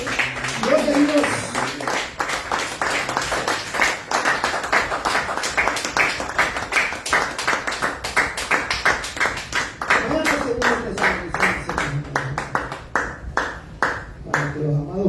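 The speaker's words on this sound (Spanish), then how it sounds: "Denle aplausos al Señor." Rhythmic clapping from a church congregation during a Spanish-language sermon, steady beat-like hand claps running throughout, mixed with voices and music underneath.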